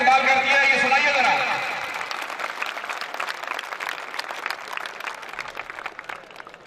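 An audience applauds to welcome guests at a school farewell debate event, with steady clapping that starts under a speaking voice and continues alone.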